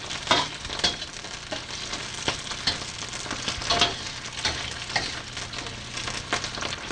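Celery and scallions cut into inch-long pieces stir-fry in a hot pan, giving a continuous crackling sizzle with frequent scraping stir strokes at close range.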